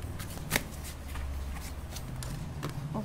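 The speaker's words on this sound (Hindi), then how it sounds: "ओके, बहुत कार्ड गिर रहे हैं।" Tarot cards are shuffled by hand, with several slipping and dropping: soft continuous riffling broken by a sharp slap early on and lighter taps later, close up and with nobody speaking.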